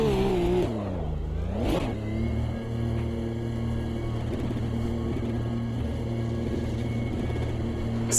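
A Ferrari 512 BB LM race car in Automobilista 2 pulls away, its engine dipping then revving sharply before settling into a steady, loud, droning hum as it drives out.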